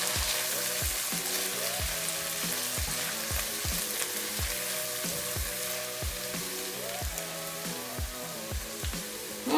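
Mushrooms and bouillon cook in a pan on a stove turned low, a continuous soft sizzle with steady bubbling and a recurring rhythmic tapping underneath.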